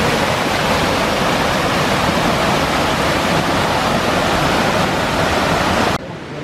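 Rushing water pours over a river weir near Littledale in a steady, loud broadband roar for about six seconds, dropping abruptly to a softer wash at the end.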